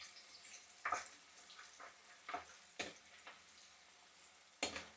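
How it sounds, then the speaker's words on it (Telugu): Mustard seeds spluttering in hot oil for mutton pickle, scattered sharp pops and crackles over a faint sizzle, quiet and irregular. "ఆవాలు బాగా చిట్లినట్టుగా వేపుకుంటే బాగుంటుంది"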